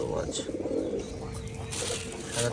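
Pigeons coo softly on a pigeon farm in Rajshahi where the birds are fed wheat, their low burbling calls running steadily through the moment while people talk nearby.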